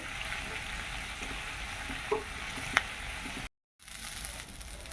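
Chopped green chili and onion fry in a pan with a continuous close sizzle, broken by a couple of sharp utensil clinks and a brief dropout near the end.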